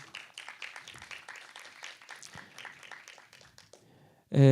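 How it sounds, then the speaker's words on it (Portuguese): Seminar attendees applaud a cinema company CEO in a lecture-hall setting, with scattered, fairly soft clapping that thins out before a sudden loud tonal burst cuts in at the end. "Por favor, uma salva de palmas para o nosso amigo."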